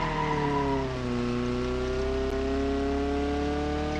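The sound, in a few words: car engine revving with gears grinding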